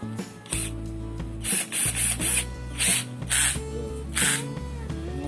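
Torque collar on a Mitsushi cordless drill being turned by hand, giving a series of about eight close, crisp ratcheting clicks at uneven intervals, with no talking.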